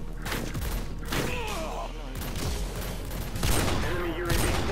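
Barrett sniper rifle shots ring out during a Modern Warfare 2 free-for-all match, several sharp reports with other game gunfire and effects mixed under a player's voice.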